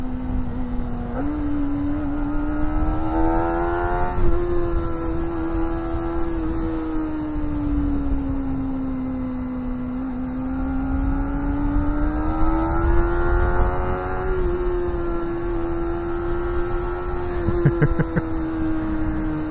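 A Kawasaki Ninja ZX25R engine holds a high-pitched, steady whine that rises and falls slightly, with a brief dip near the start where the gear changes; the tone stays continuous and close over wind noise.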